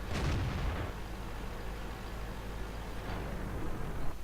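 A single tank cannon shot from an STA-1 in a tank battle game booms loudly at the start, followed by a low rumbling decay and a faint second report near the end.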